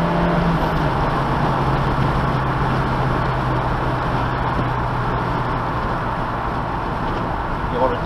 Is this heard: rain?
no